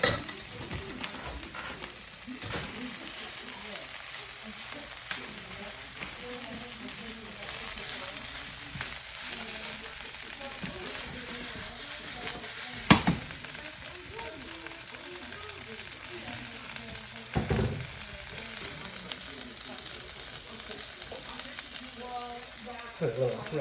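Kale sautéing in oil in a pan gives a soft, continuous sizzle close by, with a few sharp clanks of utensils against the pan along the way.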